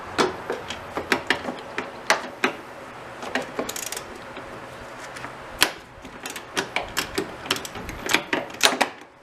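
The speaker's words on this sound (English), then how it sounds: "I'll see if I can just use the ratchet in the shallow socket." A ratchet with a shallow socket loosens bolts on an S13 Nissan 240SX during a clutch master and slave cylinder replacement. It gives a steady run of sharp, close metallic clicks in uneven bursts.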